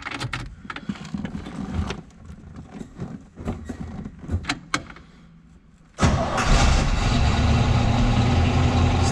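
A 1960 Chevrolet Corvette convertible with a 4-speed transmission. After several seconds of quiet clicks and handling noises, the engine cranks and catches abruptly, then settles into a loud, steady rumbling idle.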